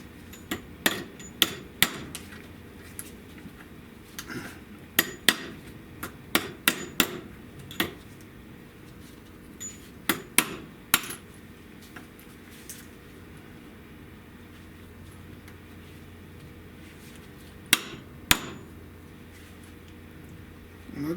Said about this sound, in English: And I just want to hit them and make them bow down just a little bit.